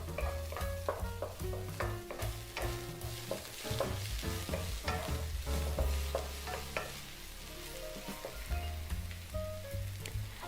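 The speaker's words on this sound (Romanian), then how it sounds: "Adăugăm ceapa verde tocată, doar partea albă. Călim pentru 1 minut." Chopped white parts of green onion sauté in a hot pan, a steady sizzle broken by frequent scraping and stirring clatter, close and continuous with no voices.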